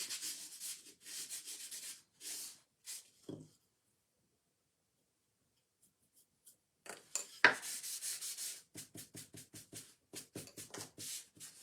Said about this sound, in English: I'm just adding wax, especially on the little ripped edges, to get it to be a little bit darker in those spots